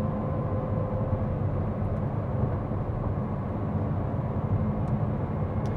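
McLaren Artura supercar cruising in electric mode on a mountain road, giving a steady, even blend of faint motor whir, tire roar and wind rush with no engine note, constant and close throughout.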